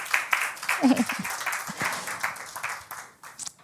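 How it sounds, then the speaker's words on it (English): Moderate applause from a conference audience at a tech demo day for a departing speaker, uneven and fading, with a voice heard briefly over it. "Let's give Oksana an applause"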